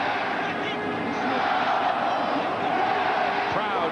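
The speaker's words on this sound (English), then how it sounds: "Crowd chanting in rhythm now." Big stadium crowd at a 1998 CFL West semi-final football game in Edmonton, a dense, continuous roar with rhythmic chanting swelling beneath it, heard from a broadcast vantage.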